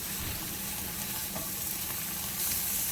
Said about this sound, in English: I'm going to let these fry out a little bit